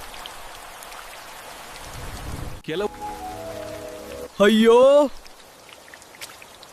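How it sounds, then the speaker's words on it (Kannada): Rain pours steadily, a soft, even hiss behind two short bursts of other sound, one of them an exclamation from a voice. "ಎಲ್ಲೆಡೆ ಮಳೆ ಸುರಿಯಿತು"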